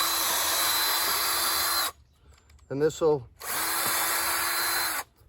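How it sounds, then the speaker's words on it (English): A power drill whirs twice in steady, loud bursts, pre-drilling the corners of a wooden raised garden bed with a small bit, separated by a short pause where someone speaks briefly. "we're gonna pre-drill the corners just with a little drill bit"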